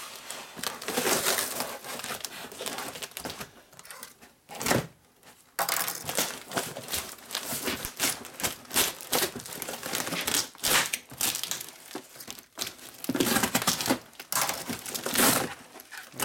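A cardboard box is cut in half and torn open by hand, giving bursts of crinkling, scraping and tearing with short pauses between them. The sounds are close and fairly loud, with no talking.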